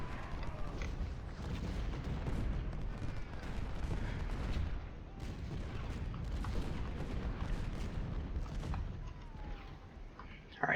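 Battle noise from Ultimate General: Civil War fills the clip with continuous distant rumbling gunfire and booming artillery, with rolling musket volleys and heavy thuds layered over each other and no voices.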